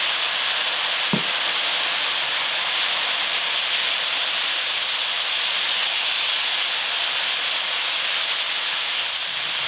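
Mirin hits stir-frying seaweed stems in a hot oiled pan, setting off a loud, steady sizzling hiss that carries on without a break after a brief clunk near the start.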